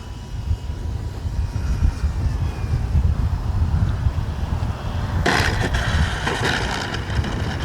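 RC Tecnam model airplane, an Arrows RC Tecnam 2010, buzzing steadily overhead with a whirring electric motor and wind noise, the pitch and intensity rising in the last couple of seconds.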